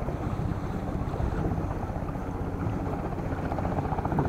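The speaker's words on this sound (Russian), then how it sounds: "Вертолет снижается." A descending helicopter drones steadily with a rhythmic rotor thump and wind noise, continuous and moderately loud throughout without speech.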